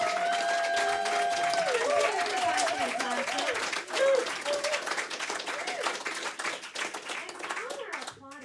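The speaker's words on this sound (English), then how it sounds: "while we're applauding" A concert crowd at a Friday night show applauds the band with dense, lively clapping and a few whoops, while voices talk and call out over it before the clapping thins toward the end.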